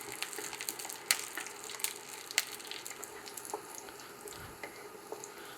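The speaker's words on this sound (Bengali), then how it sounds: "রসুনটা একটু হালকা ভেজে নিব যাতে রসুনটা নরম হয়ে যায়।" Garlic frying lightly in hot oil in a pan gives a quiet, steady sizzle with scattered sharp pops and crackles, close by and without talk.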